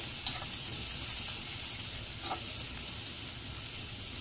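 Capsicum (bell pepper) sizzles steadily in a hot pan while being stirred, a continuous close frying hiss with a couple of faint scraping touches and no voices.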